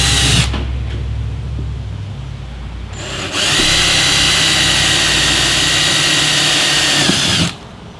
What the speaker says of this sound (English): I'm going to drill a pilot hole first, and then we'll drill our final hole afterwards.